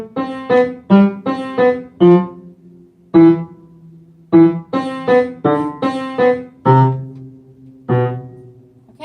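Piano notes and chords in a short phrase, clearly articulated and close, with a couple of brief pauses between groups of notes.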